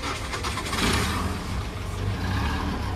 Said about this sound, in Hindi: तो दोस्तों आप बताओ आपको इंजन की आवाज़ कैसी लगी